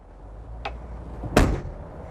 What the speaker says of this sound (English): Nice and easy slam doors.